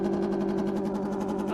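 An Ariel Atom V8 engine held steady at high revs on launch control, a loud, continuous buzzing drone with a fast pulsing rhythm, close and sustained throughout.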